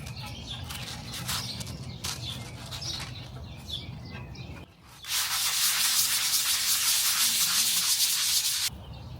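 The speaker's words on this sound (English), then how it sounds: "I scratched it up pretty good with that 60 grit sandpaper" Coarse 60-grit sandpaper scrapes hard against the tough coating on a Toyota Tacoma skid plate, first in short rubbing strokes and then in a loud, continuous grinding scrub, heard up close.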